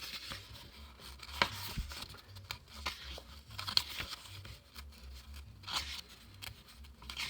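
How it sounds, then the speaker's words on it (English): Paper pages of a plant identification key book are flipped by hand, a few soft crinkles and sharper flicks spread across a quiet room. "just flipping to that page here"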